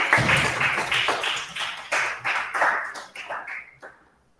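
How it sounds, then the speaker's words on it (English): An audience at a school National Mathematics Day event claps steadily to welcome a poet, a loud run of rhythmic claps that thins out and fades to silence by the end. "So kindly welcome her with some more claps."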